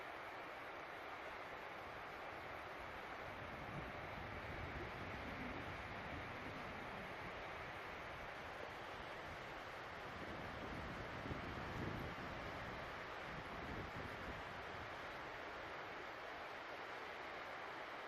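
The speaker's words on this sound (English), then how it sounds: "So it's a little breezier today, which is good" Steady wind blowing across an open outdoor hillside during a late-season elk hunt, a soft continuous rush with gentle gusts swelling and fading, no voices.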